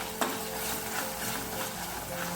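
Tomatoes being sautéed in a pan for kara kulambu, a steady close sizzle with a brief scrape or tap near the start.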